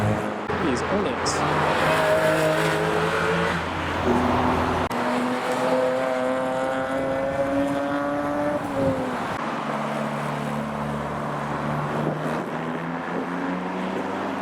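Porsche 996 GT3 driving past at an outdoor car show, a steady rising engine note that swells and shifts pitch as it goes by, with crowd noise around it.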